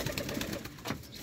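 Chuhe breed pigeons, a rare pure line kept by a fancier, coo softly in a few low repeated calls, close by, with no voices.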